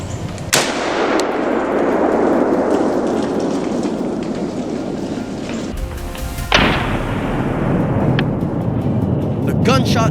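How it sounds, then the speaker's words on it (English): Two loud, sharp rifle cracks ring out at a wild boar herd in a marsh, one early and one later, each trailing an echo over a constant hissing wash of outdoor noise, with voices faint in the background. "The gunshot echoes, sending the herd scattering in panic"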